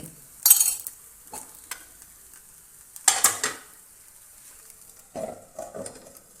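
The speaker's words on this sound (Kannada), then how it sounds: "ರೊಟ್ಟಿಯನ್ನು ತಟ್ಟಿ ಹಾಕಿ ಬೇಯಿಸಿದರೆ ಬಿಸಿ ಬಿಸಿಯಾದ ತಾಲಿಪಟ್ಟು ರೆಡಿಯಾಗುತ್ತೆ" Thalipattu flatbread cooks in oil on a pan for a healthy breakfast, with short bursts of sizzling and clinks of a utensil against the pan, separated by quiet gaps.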